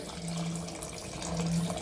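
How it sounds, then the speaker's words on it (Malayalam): Tamarind water poured into a simmering brinjal and chickpea masala curry gives a brief, steady, close liquid splash and trickle with no talking. "നമുക്ക് ഇച്ചിരി പുളിവെള്ളം ചേർത്ത് കൊടുക്കാതെ"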